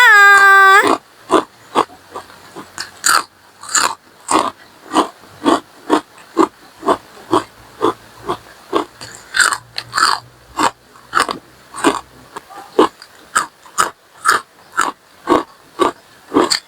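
Loud, crisp crunching bites of crunchy jackfruit chips, repeated in a steady rhythm close to the mic, with a brief voice at the very start.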